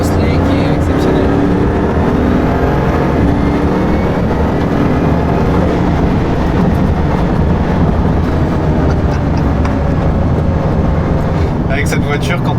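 Bugatti Chiron Super Sport, 1600 hp, driving on the road and pulling out to overtake, a continuous deep engine and road roar from inside the car, with voices talking over it.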